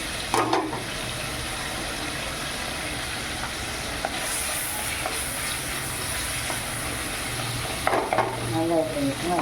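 Prawn gravy cooks in a pan with a steady, close sizzle and bubbling that runs throughout, brightening briefly with a few louder spits and stirring sounds near the start and end.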